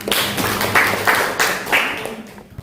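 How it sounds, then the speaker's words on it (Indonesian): A classroom audience claps after a student group presentation, a short burst of sparse, uneven handclaps with a few distinct sharp claps standing out, fading at the end. "Beri tepuk tangan"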